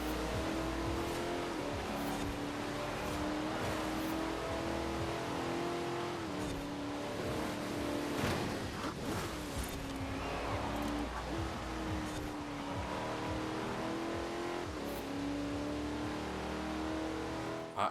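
A car engine races at a steady high pitch in Forza Horizon 4, holding loud revs through gear changes with tire and road noise throughout a continuous run with no talking.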